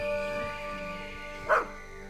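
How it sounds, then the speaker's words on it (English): A dog barks once in the horror video game Maid of Sker, a short mid-distance woof over steady tonal background music. "the dog seems to be beware of me"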